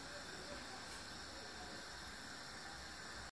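Oil heating in a pot gives a faint, steady hiss that holds unchanged for a few seconds with no other sounds.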